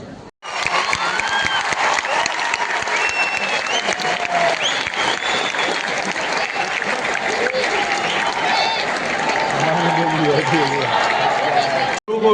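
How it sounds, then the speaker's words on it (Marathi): Loud, sustained crowd applause and cheering fill a large Pro Govinda Season 4 final-day event, dense clapping running steadily throughout with a voice briefly audible near the end. "पुन्हा एकदा जोरदार टाळ्या"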